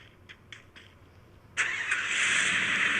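A car engine starts in the Free Fire video game: faint clicks, then a sudden loud catch that settles into a steady, bright idling roar.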